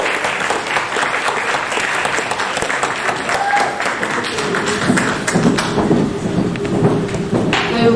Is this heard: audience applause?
yes